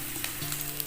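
Dried red chillies, lentils and curry leaves fry in hot oil with a little turmeric for a tamarind dish, giving a faint, steady sizzle with soft crackles and one or two small pops, close by and without talk.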